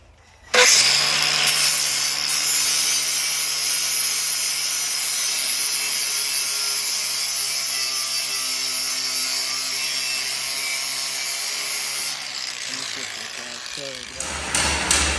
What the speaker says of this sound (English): we got to sharpen our tool up